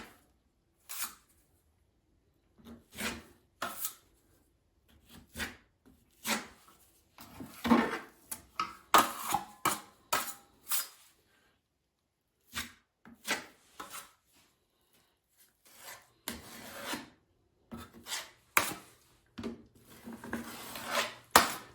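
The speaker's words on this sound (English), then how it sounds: "So I'm just going to take it on my taping knife and just push it into the gap." A metal taping knife scrapes and presses dry setting-type joint compound into a gap, giving short separated rasping strokes and taps in an irregular rhythm, close and fairly quiet with pauses between.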